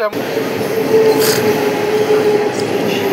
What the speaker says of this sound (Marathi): बघा पूर्ण अशी गच्च भरलेली ट्रेन आहे